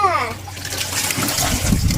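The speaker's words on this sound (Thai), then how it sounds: "แล้วก็จะเทน้ำออกเลยจ้า" Water poured out of a basin during hand laundry washing, a brief splashing gush right after a voice, then a steady trickle fading under light talk.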